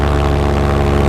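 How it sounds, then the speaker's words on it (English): A Helix paramotor propeller spins in a steady, loud droning whir with a pulsing engine hum underneath, continuous and close for the whole moment. "Helix spins slower than this propeller."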